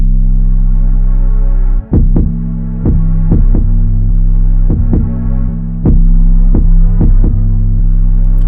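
Deep 808 bass notes in a beat pulse loudly over a sustained low hum, each hit throbbing, with overlapping notes swelling louder when a second or third 808 lands on top.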